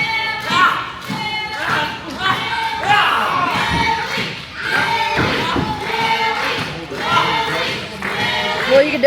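A crowd at a wrestling match cheers and shouts in loud, surging bursts, mixed with thuds from the ring and an announcer talking over the noise.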